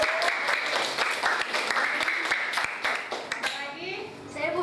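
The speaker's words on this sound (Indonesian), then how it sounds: "tepuk tangan" A classroom of children breaks into applause, a burst of many quick, overlapping claps that goes on for a few seconds and then tapers off.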